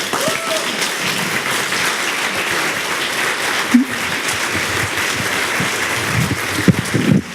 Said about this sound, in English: And big applause for our aliens